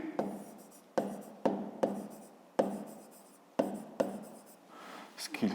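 Pen writing by hand on paper while working a fifth-grade maths exercise: repeated scratchy strokes in short bursts, each starting with a sharp onset, close and fairly quiet, with no talking.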